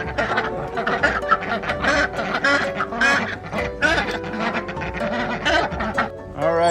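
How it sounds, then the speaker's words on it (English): A flock of homestead ducks quacking excitedly around their freshly refilled bath water, dense overlapping nasal quacks that continue nonstop, near and loud, with some splashing mixed in. "Every time we change the water in the duck bath, they get so excited and they start just going crazy."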